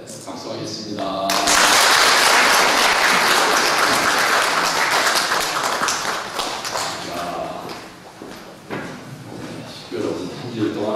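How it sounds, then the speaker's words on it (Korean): A church congregation bursts into loud, dense applause that swells quickly, sustains for several seconds, then thins out with scattered claps and murmuring voices. "네, 박수하겠습니다."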